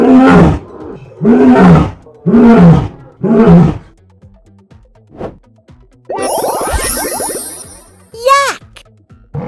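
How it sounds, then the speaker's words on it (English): Four loud, rhythmic lion roars rumble close by, followed by a voice and a short burst of toy sounds. "Lion!"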